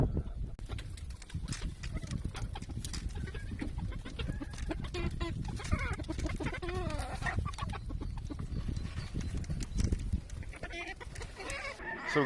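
Hens in a coop give soft, scattered clucks and murmurs over rustling bedding and footsteps, fairly quiet and close.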